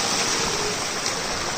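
Cold water flowing inside Robber's Cave in Dehradun, a dense, steady rushing wash of stream water, close and loud, with no other sounds standing out.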